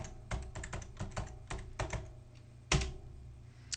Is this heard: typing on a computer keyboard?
yes